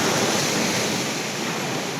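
Sea waves at Cola Beach in Goa roar in a continuous broad wash of surf, steady and loud with some wind noise, and no voices.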